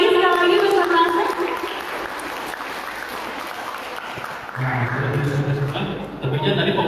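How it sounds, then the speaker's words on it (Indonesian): Seminar audience of students clapping in a hall, a broad patter of applause that fades under a speaker's voice, with talking continuing over it. "boleh tepuk tangan lagi sekali lagi bersama saya"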